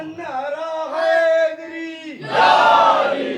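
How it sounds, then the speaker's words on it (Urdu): A crowd at a religious majlis gathering shouts a slogan back in unison, a loud sustained chorus of voices that drops briefly and then swells into a bigger, rougher roar of response. "مل کر نعرے کا جواب۔"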